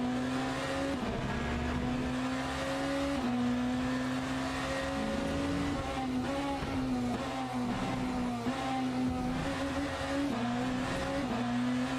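A BMW hypercar engine in the Le Mans Ultimate racing game revs out hard and loud, its steady high whine climbing and dropping through gear changes, with no voices over it.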